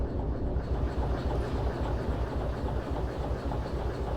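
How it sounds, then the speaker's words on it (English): In the Derail Valley VR train game, a locomotive rumbles steadily with faint clickety-clack as the train brake is applied before uncoupling, a continuous low mechanical drone with no speech. "this time we will just use the train brake because we want the brakes on when we uncouple."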